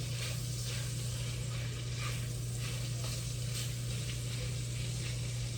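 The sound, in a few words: sausage browning and sizzling in its fat in a pan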